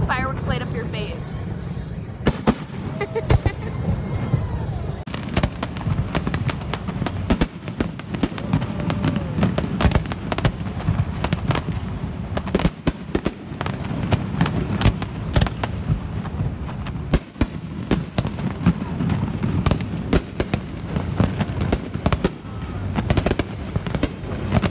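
Rapid bursts of fireworks crackle and bang continuously at a Pride event in Orlando, sharp repeated explosions in dense clusters, with people's voices talking and reacting beneath the barrage.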